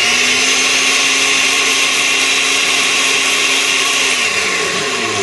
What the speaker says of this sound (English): Blend it for about a minute.